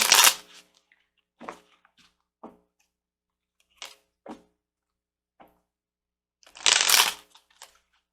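A deck of healing oracle cards is shuffled and a card drawn, heard as short papery riffles and flicks in separate bursts, with a louder flurry near the end and quiet gaps between.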